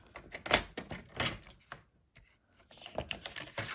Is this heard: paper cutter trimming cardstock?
yes